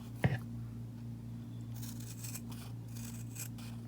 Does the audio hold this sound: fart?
no